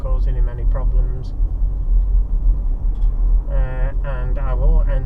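A car rumbles steadily along a road while overtaking another vehicle, its low engine and tyre drone continuous throughout, with a voice sounding over it near the start and again toward the end.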